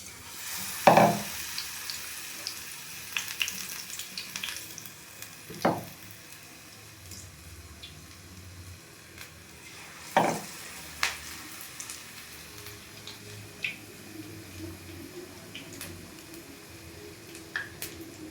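Palak leaf bajji frying in hot oil: a soft, steady sizzle with occasional sharper crackles and pops spread across the stretch, fairly quiet and close, with no talking.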